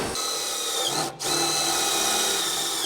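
A power tool whirs steadily as it tightens steel bolts on a prefabricated house in a factory, a sustained close, loud whine with a brief dip partway through before resuming.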